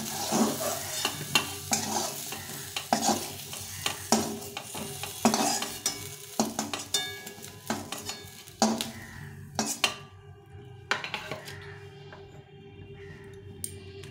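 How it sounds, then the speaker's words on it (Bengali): Fried eggplant pieces lifted from shallow oil in a pan, with steady sizzling under repeated scraping and clinking of a utensil against the pan, the frying dying down and the clatter sparser toward the end. "তো এখন আমি বেগুনটাকে উঠিয়ে নেব।"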